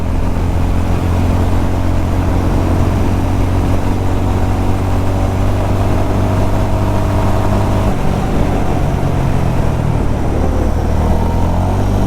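A Honda CB350 RS motorcycle (2021-2024) accelerates toward top speed in third gear, its engine a loud continuous drone mixed with rushing wind, shifting tone slightly partway through.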